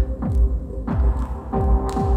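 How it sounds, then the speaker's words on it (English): Reverb effect from a MasterSounds FX unit (2nd generation) on a DJ mix: a deep throbbing beat with bass pulses roughly every two-thirds of a second, each hit trailing into a lush, washed-out tail. "the depth, the clarity, the body of the reverb is just amazing"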